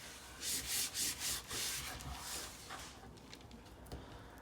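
Rubbing down a popsicle stick craft by hand, several firm strokes in the first half, fading into lighter, quieter brushing.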